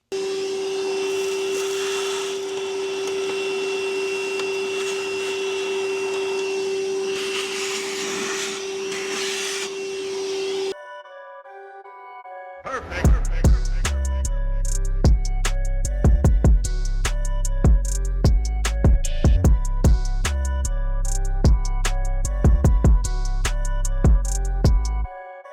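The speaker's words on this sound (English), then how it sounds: "we'll hoover that out" A vacuum cleaner runs steadily and loudly, sucking debris out of an electrical socket box, then cuts off near the midpoint, after which clattering, knocking handling sounds follow.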